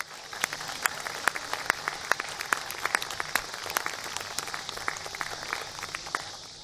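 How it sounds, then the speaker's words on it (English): A community band's audience claps in a modest round of applause, individual sharp claps distinct over a softer continuous patter, moderately distant and steady throughout. "Let's give them a round of applause."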